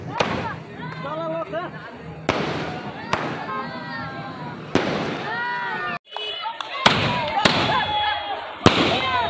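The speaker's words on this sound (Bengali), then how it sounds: "আতশবাজি ফুটিয়ে বিজয় উল্লাস করেন।" Fireworks set off in a street victory celebration after an upazila election in Bangladesh crack in sharp, loud bangs at irregular intervals while someone speaks continuously over them.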